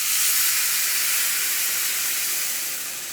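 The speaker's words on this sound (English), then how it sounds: "Be careful, it's going to splash, okay, or the steam is going to come up" Water poured onto hot Spanish rice throws up a loud, close burst of steam, a broad, steady hiss that softens slightly toward the end.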